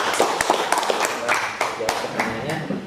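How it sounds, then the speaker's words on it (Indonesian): A classroom of students claps for a classmate, with quick, uneven hand claps close by while voices talk over the applause. "Tepuk tangan dulu untuk Salma."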